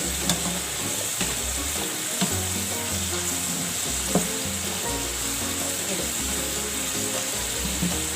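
Homemade potato fries bubble steadily in hot oil, a dense continuous sizzle, close and fairly loud, with a low hum underneath and no talk.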